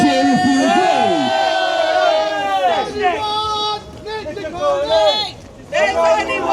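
A crowd at a UKIP rally in Dover roars and shouts in loud, overlapping bursts, with chanting voices rising and falling close by over several seconds.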